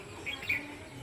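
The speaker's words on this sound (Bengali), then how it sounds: "পাখির ডাক" A few short, high bird calls in a village, two brief chirps close together standing out faintly over a quiet outdoor background.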